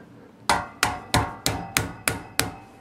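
An end cap is slammed down onto a workstation leg piece in seven sharp, evenly spaced impacts, each ringing briefly, loud and close with no talking.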